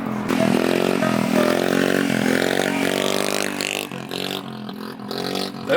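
A TaoTao moped engine revs hard and steadily during a wheelie, whining high and loud with buzzy harmonics, then briefly eases off and picks back up.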